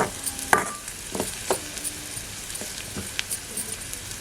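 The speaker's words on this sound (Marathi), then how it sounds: "कांदा मस्त परतून घेऊया लाल होईपर्यंत" Onion fries in hot oil in a pot on a wood-fired clay stove, browning as it is stirred, with a steady close sizzle broken by stirring scrapes and light clinks.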